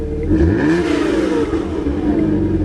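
A car engine revs hard and steadily, its pitch sweeping up and down under load, loud and close with no other sounds.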